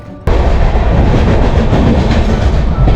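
A passenger train departing Subedarganj station in Prayagraj rolls steadily along the rails, a loud continuous rumble with rhythmic clickety-clack after a sudden start.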